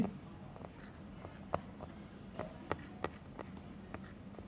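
Chemistry notes written on a board: faint, scattered taps and short scratchy strokes at an irregular pace over a quiet room background.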